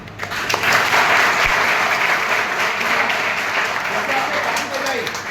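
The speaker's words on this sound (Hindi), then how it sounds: "दो हाथ से ताली बज दिया ना" An audience at an honour ceremony for Agniveer soldiers claps with both hands in steady, loud, sustained applause that fills the whole stretch.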